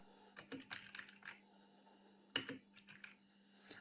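Typing on a computer keyboard, with bursts of key clicks in two clusters separated by a pause, close and fairly quiet over a steady low hum.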